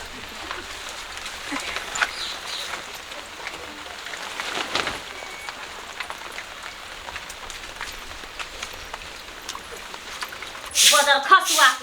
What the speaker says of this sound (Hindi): एते कहूँ बारिश भेल ह सब पानी घर में घुस जा है